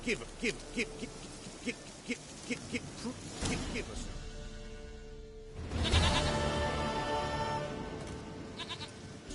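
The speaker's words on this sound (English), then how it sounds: "Goat of mine, dearest, sweetest goat." A goat bleats repeatedly in The Witcher 3, several short calls early on, followed by louder bursts of in-game noise.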